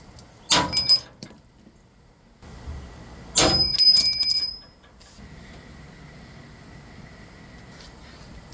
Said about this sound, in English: First, we're gonna knock out this spring pin.